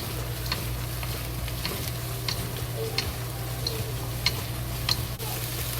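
Scallion, mini sweet pepper, carrots and cabbage frying in a pan, a steady sizzle over a low hum, punctuated by sharp, evenly spaced clicks of a utensil against the pan.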